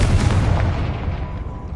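A Confringo spell explodes in Hogwarts Legacy during a troll fight, a loud, close, booming blast with a heavy low rumble that fades out over under two seconds.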